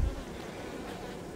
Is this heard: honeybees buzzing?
yes